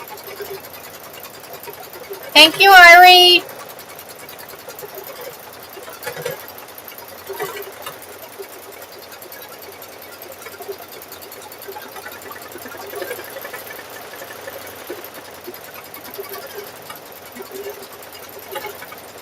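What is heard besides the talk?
sewing machine stitching a quilt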